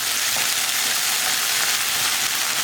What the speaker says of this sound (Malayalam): ഇതൊന്ന് നന്നായിട്ട് വഴറ്റിയെടുക്കുക.